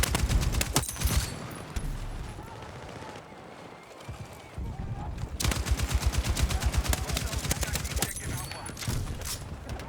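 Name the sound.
gunfire from the video game Battlefield 6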